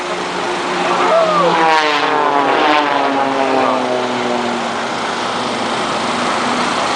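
The Blades aerobatic display team's propeller aircraft flying past at an RAF Benson families day, a loud droning engine sweep with a falling pitch as it passes, with a commentator speaking.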